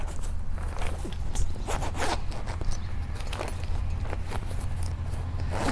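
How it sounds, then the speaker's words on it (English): A zipper is pulled back and forth in quick rasping strokes, close and fairly quiet, with soft fabric rustling between pulls. "These are cheap zippers, so don't tug too hard on them."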